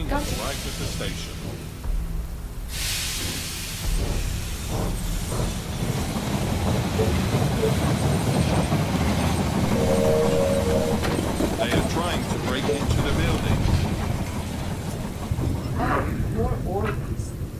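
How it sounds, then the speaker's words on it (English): A train pulls into a station in the strategy game They Are Billions, its rumbling, clacking rail noise building and holding for many seconds under a continuous din of game sounds. "The train has arrived at the station."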